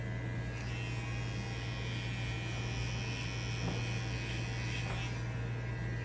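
Electric hair clipper set to a zero guard, a steady close buzzing hum that runs unbroken throughout.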